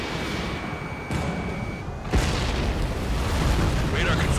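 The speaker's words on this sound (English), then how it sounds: "Spare 15, launching missile." Missile fired from a fighter jet in the air-combat game Ace Combat 7, a sudden loud whooshing burst that rises over constant jet engine roar, with radio chatter in the mix.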